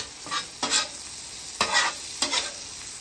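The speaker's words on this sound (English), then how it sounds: "Start cooking those onions in the bacon fat and just start letting it cook and cook and cook." Onions cook in bacon fat on a griddle set to low heat, giving a steady close sizzle broken by a few short scraping stirs from a spatula. No one speaks.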